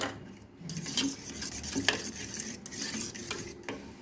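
A spoon stirs and clinks through fruit raita in a bowl, giving soft wet mixing swishes punctuated by a few sharp metallic taps against the rim, close and moderately quiet with no voices.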